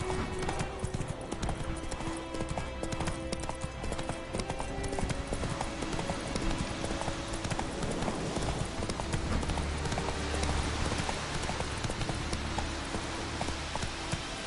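Roach the horse from The Witcher 3 galloping at full speed, a dense, continuous drumming of hooves clip-clopping with game ambience beneath, steady and loud throughout.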